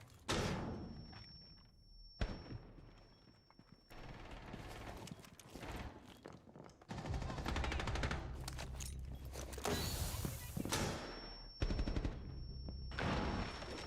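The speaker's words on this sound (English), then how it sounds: "Oh, the C4 still went off" A C4 charge goes off in the video game Rainbow Six Siege amid a dense stretch of gunfire, heavy booms and thuds. The din is loud and continuous, with sharp impacts and a few high ringing tones, and no talking.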